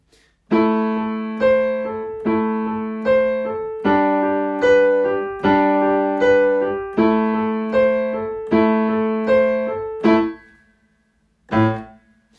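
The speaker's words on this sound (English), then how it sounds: "This is the second part of the piece where it's supposed to be played loudly" Loud section of the piano-style piece Prelyudiya, played as a tutorial lesson: about a dozen evenly spaced strong chords ring close and clear, a pause, then one final struck chord, with no talking.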